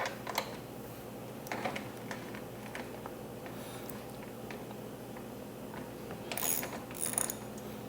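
Wheel bolts on a Toro Personal Pace lawn mower are tightened, giving scattered ratcheting clicks and short metallic bursts, mostly faint with a louder flurry near the end.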